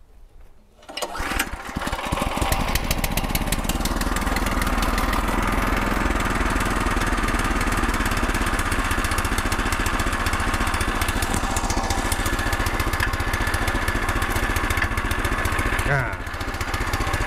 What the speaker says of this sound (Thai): เดี๋ยวผมสตาร์ทรถมันกันนะครับเด้อให้ผมสตาร์ทรถกัน